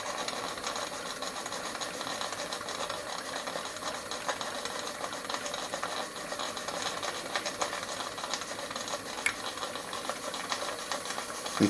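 A Stuart S50 mill model steam engine running on live steam gives a faint, continuous hiss with a quick, even mechanical clatter and rattle throughout, and no one speaks.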